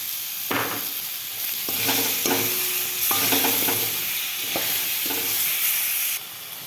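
Cut potato fries in a pan of hot oil, a loud continuous sizzle broken by several scraping stirs of a utensil across the pan, close and with no voices.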